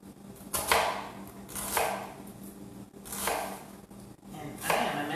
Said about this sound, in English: And then turn it 90 degrees and do a medium fine chop.